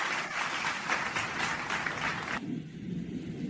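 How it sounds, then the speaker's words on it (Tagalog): Dense, steady applause from a cartoon crowd cheering a smooth plane landing by Tails in a Sonic and Knuckles episode; the sound changes abruptly near the end as the scene cuts. "Lahat ay pumapalakpak."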